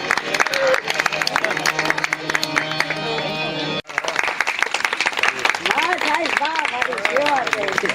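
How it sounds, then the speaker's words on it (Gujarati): Sustained audience applause fills a hall at a public meeting on moneylender complaints in Junagadh, dense clapping with crowd murmur, briefly broken by a short gap midway before resuming with voices and sustained tones over it. "તાળીઓના નાદથી આપણા સન્માનને જાળવી"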